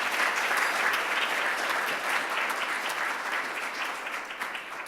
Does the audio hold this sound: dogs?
no